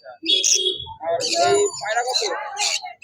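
Exotic birds and pigeons at the Serampore bird market give short bright chirps and calls in quick bursts, close by, alongside a nearby talking voice.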